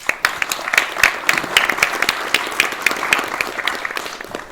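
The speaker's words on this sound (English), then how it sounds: "Give yourselves a round of applause." Supporters at a press conference on building the South Suburban Airport give a round of applause, with individual claps standing out distinctly from a moderately sized, fairly close crowd.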